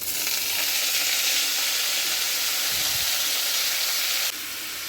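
Ash gourd pieces hitting hot oil seasoned with cumin seeds and a bay leaf, giving a loud, steady sizzle and hiss that carries on throughout, with a brief drop in intensity near the end.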